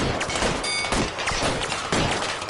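Dense, continuous gunfire from a police shootout in the video game L.A. Noire, loud rapid bursts overlapping into a sustained fusillade with no pause.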